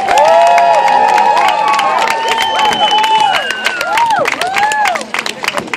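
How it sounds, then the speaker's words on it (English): A large crowd at a jousting event applauds and cheers together, loud and sustained, with whoops and shouts rising over steady clapping before it begins to thin out. "Let's give them a round of applause."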